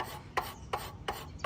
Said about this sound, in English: you can go back over it with your wood rasp to take the teeth back out